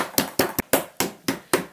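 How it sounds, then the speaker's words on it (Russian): A meat mallet's smooth side pounds a slab of veal covered with plastic wrap, striking seven times in a steady, close, loud rhythm of dull thuds with nothing else audible. "Теперь я накрою пищевой пленкой и гладкой стороной молотка немножко побью."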